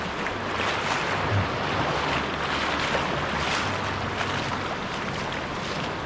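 A creek's strong current rushes in a constant broadband roar near a low-water crossing by a swinging bridge, with wind buffeting the microphone and no talk.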